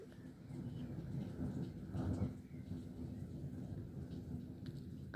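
Thunder rolls through a strong, highly electric thunderstorm in Linselles, a low rumbling that swells and fades over steady background rain, with no talking.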